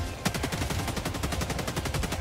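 Rapid automatic gunfire rattles in the video game Helldivers 2. A dense, steady stream of loud, close shots runs for the whole stretch without a break.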